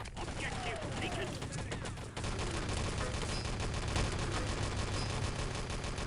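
Rapid gunfire and bursts of automatic weapon fire from a shooter video game, loud and continuous throughout, with a brief break near the middle and a voice talking over the action.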